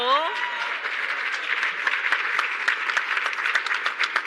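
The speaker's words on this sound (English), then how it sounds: "A round of applause, please." Symposium audience applauding a panelist, a dense, steady round of clapping from many hands that carries on for several seconds after a brief voice at the start.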